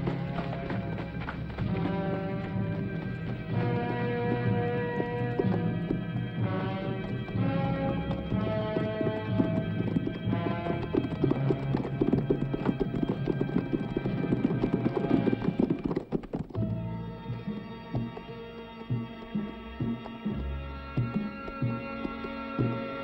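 Horses gallop in a western film scene, steady hoof clip-clop running continuously under a loud orchestral score, with a brief shift in the music near the end.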